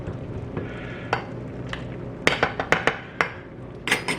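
Ghee-enriched khichuri, a traditional Bengali bhog khichudi for Durga Puja, stirred in a pot: irregular scraping and clinking strokes of a spoon against metal, a few sharp knocks clustered near the end, over a faint steady sizzle.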